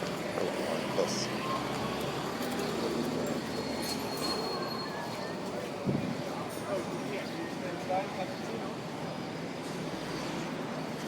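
Echoing ambience of the 42nd Street subway station in New York, with a steady rumble and hiss of passing trains, faint metallic squeals, and occasional distant voices.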